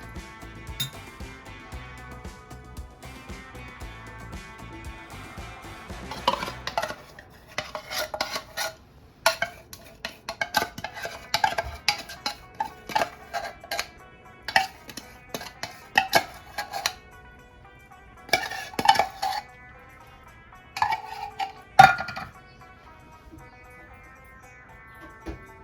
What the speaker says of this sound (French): Maintenant, on mélange.